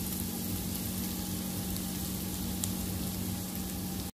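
Garlic fries in butter, giving a soft, steady sizzle and crackle that runs evenly without pause, fairly quiet and with no voices over it.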